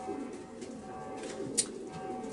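Young racing pigeons coo softly and continuously in a loft, with a low, steady murmur and one brief sharper note.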